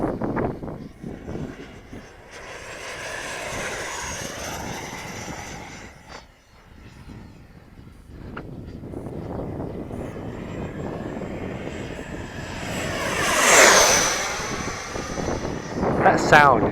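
A Freewing Venom V2 RC model jet engine roars steadily during takeoff, rising to a loud high-pitched whoosh as it passes close, with a person talking over it.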